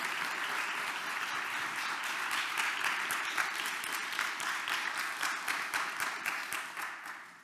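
An audience at a lecture gives Dr. Gavin Ortlund a steady round of applause, a dense, even wash of many hands clapping that thins toward the end into a few separate claps.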